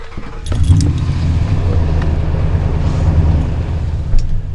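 A modded truck engine with a Hemi Fever stage 1 tune, full Borla exhaust, American Racing headers and an S&B intake rumbles loudly and steadily up close, a deep droning idle that holds for several seconds after a brief clatter at the start.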